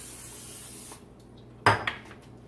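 Short hiss of cooking oil spray over chicken wings in an air fryer basket, a brief close burst with a second smaller puff, after a steady background hum.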